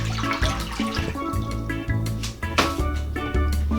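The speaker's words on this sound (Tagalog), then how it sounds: "So ilagay ko na po itong ating 6 cups na tubig." Six cups of water pour into a cooking pot, a short continuous splash and gurgle of water filling the vessel, close and fairly loud with no talking.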